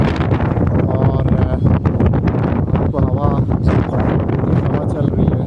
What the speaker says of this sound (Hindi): हवा चल रही है, बड़ी ज़बरदस्त हवा, खुली जगह इसीलिए बड़ी अच्छी हवा चल रही है।